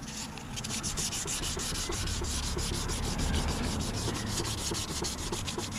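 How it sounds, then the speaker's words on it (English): Steady rhythmic rubbing of wet sandpaper on a diamond-cut alloy wheel, quick back-and-forth strokes repeating evenly throughout, close and fairly loud with no voices. "Just wet the sanding paper."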